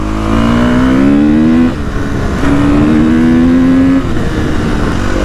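A 250 SX-F motocross bike's four-stroke engine revs hard twice, each rev a long, loud, rising howl held for about a second and a half, with a brief dip to idle between them, very close.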